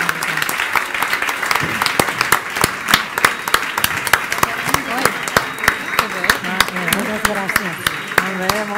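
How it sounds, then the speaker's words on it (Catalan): Loud audience applause for a women's sea-workers association at a gastronomy event, distinct sharp claps rising above a steady clapping bed, with voices talking over it. "Un fort aplaudiment per totes les dones del mar."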